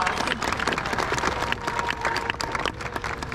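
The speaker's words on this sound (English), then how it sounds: "Yeah, that deserves a round of applause." A crowd applauding at the Sebastian River High School Class of 2022 graduation ceremony in Florida: dense, continuous clapping with scattered cheers, filling the space steadily throughout.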